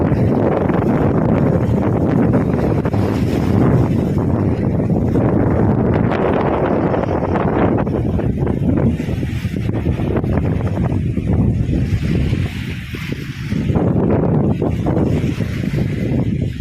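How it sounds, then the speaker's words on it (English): Strong wind at a sunny seaside nature reserve with cargo ships offshore, roaring and buffeting the microphone in loud continuous gusts with no pauses. "it's a sunny and a windy day."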